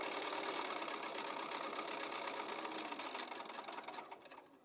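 A sewing machine stitches quilt block pieces for an oatmeal raisin quilt block in a continuous, steady, close whir that thins slightly toward the end, with no talking.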